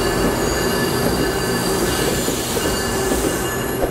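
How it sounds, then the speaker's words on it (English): A train pulls into a Toronto station with a loud, continuous rumble and a sustained metallic wheel squeal that fills the whole stretch, and no voices can be heard over it. "The train is actually coming right now"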